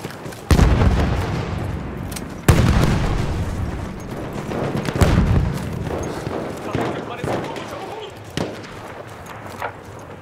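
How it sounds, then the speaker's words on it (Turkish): Grenade and bomb explosions in the first-person shooter Battlefield 1, three heavy booms a couple of seconds apart followed by rumbling battle noise and scattered gunfire, with someone talking over the action. "Bomba atıyorum."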